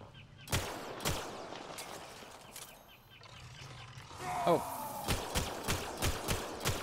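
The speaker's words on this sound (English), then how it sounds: "A lot of gunfire being exchanged." Gunfire trading back and forth in Mass Effect Andromeda, with sharp separated shots at moderate distance and a brief swooping tone in the middle, followed by a rapid run of louder shots toward the end.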